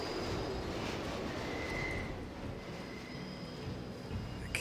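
A train in the video game Deus Ex rumbles steadily at a station, with a low continuous mechanical drone, faint hiss and a brief high squeal partway through.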